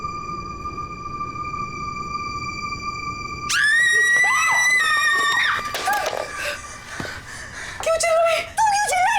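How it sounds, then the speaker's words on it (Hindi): Woman screaming in fright during a tiger-hunting scene in the psychological thriller Phobia: a sudden loud, sustained shriek cuts in after a steady high electronic tone, wavering and breaking into gasps and whimpers before a final sharp cry. "तुम क्यों चिल्लाई?"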